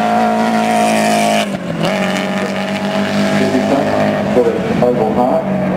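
Race cars including a Ford Escort Mark II pulling away at the start of a track race, loud engine roar that drops and then builds again with rising, overlapping engine notes from several cars.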